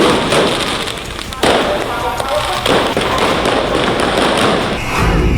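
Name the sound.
fireworks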